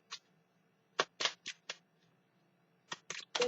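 Oracle cards are shuffled and drawn in a few short papery riffles and flicks, close and fairly soft, separated by brief pauses, with no talk.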